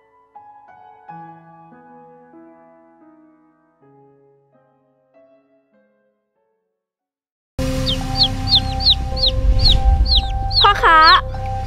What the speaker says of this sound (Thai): ไก่สีเขียวประหลาดตัวนี้ขายยังไง